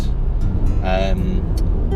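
A Renault ZOE electric car drives back into Aberdeen near a 40 mph limit, with a steady, loud low rumble of road and tyre noise inside the cabin and a brief voice over it.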